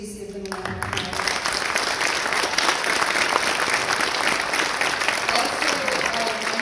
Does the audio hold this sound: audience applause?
yes